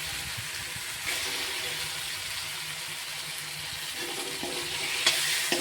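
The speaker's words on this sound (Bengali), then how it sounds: "এইবারে আমি মাছের তেলটা দিয়ে দেবো।" Fish oil added to a cooked spice masala in a pan, a soft steady sizzle with light stirring scrapes and a couple of small clinks.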